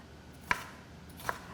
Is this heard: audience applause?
no